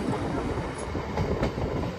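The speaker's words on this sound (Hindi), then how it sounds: "टोंस रेलवे ब्रिज देखिए क्रॉस किए" A train rolls across the silver-painted steel Tons railway bridge between Shahganj and Akbarpur, a steady close rumble of wheels and carriages with faint rhythmic clatter running through the whole stretch.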